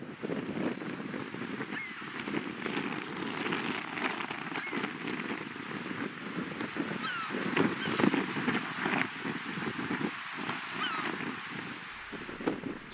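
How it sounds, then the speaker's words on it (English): A colony of hundreds of nesting seagulls and cormorants on a small Georgian Bay island: steady overlapping calls and squawks from many birds at moderate distance, with wind noise underneath throughout. "Seagulls and cormorants were everywhere."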